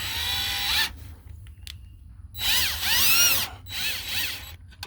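A power drill loosens the headlight screws on a 1986 C10 Silverado, whirring in several short bursts separated by pauses, loud and close at hand, with no one speaking.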